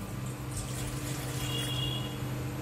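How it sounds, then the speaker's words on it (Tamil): A quarter litre of water pours into the pot of an old rice cooker being converted into an electric stove, making a steady, soft rushing sound throughout. "இதில் ஒரு கால் லிட்டர் தண்ணி ஊற்றிடுவோம்."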